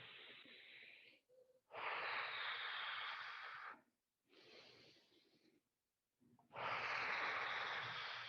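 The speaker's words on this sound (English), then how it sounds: "Inhale up. Exhale down." Deep, forceful breaths during an exercise routine alternate between long inhales and exhales, four airy bursts with short silent gaps between them, close and fairly quiet.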